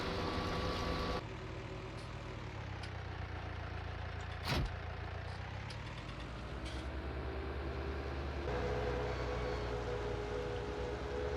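A tractor engine drones steadily in Farming Simulator 19 as the machine drives over to a trailer, a constant loud hum with a shift in pitch partway and a brief clunk near the middle, no talk.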